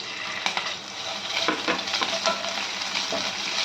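Chopped onion with curry leaves frying in hot oil for a chapathi fry, a loud, steady close-up sizzle broken by scraping stirs and light clinks.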